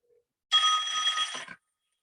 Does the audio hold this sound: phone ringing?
yes